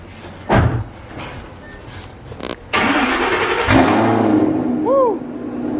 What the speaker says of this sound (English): give you guys a little startup real quick